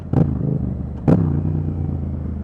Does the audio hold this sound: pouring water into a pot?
no